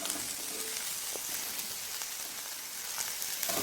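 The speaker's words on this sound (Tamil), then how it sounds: "ஸோ இந்த இஞ்சி பூண்டு நல்லா வதங்கட்டும்." Ginger and garlic sautéing in a pan for a sardine curry, a steady close-up sizzle and crackle of frying that holds evenly throughout with a few faint clicks.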